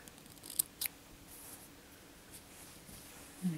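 Scissors make two quick, close snips through crochet yarn, followed by faint handling noise in an otherwise quiet room.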